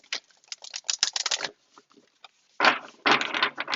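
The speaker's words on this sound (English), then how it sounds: "I'm going to go ahead and shuffle these cards for you" A deck of tarot-style cards is shuffled by hand close up, quick riffling and flicking bursts in uneven clusters separated by brief pauses.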